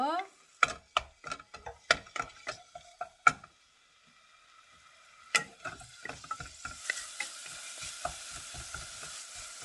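Meat is stir-fried over low heat in a pan, with a spatula scraping and clacking in quick repeated strokes and a soft sizzle building underneath, close by and fairly quiet.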